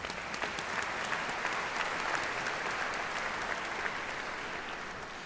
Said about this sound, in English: Let's give them a round of applause as well